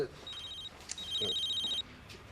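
A telephone rings indoors in repeated electronic trills, a short burst followed by a longer one, fairly faint, with brief voices in between.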